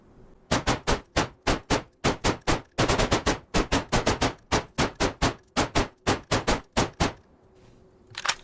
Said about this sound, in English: This is our fourth 30 rounder we're about to shoot.